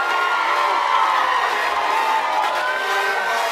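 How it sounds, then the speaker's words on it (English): A live audience applauds and cheers at the Miss Grand International 2016 final show pageant, a dense, continuous wash of clapping and crowd noise that stays loud and even throughout. "Keep the applause going, and we'll see you after the break."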